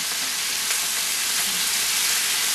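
Steak and butter sizzle in a very hot pan, a loud, steady hiss of frying that continues without pause and without any voices.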